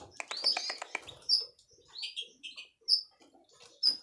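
A caged finch or canary chirps close by, giving a quick run of twittering notes followed by several sharp, bright single chirps spaced about a second apart, with no talking.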